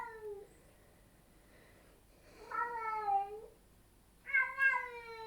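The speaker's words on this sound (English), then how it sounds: "Oh my God, my cat. I'm sorry. She does this when she has her piece of string outside." A cat meows three times, long drawn-out wavering calls with pauses between, fairly close in a quiet room and heard alone.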